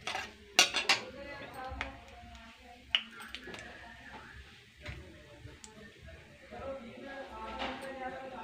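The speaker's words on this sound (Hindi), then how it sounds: "ये राई तड़क रही है हमारे इधर" Mustard seeds crackle in hot oil for poha, scattered sharp little pops and ticks, some close together and some spread apart, quiet and close, with a voice talking softly between them.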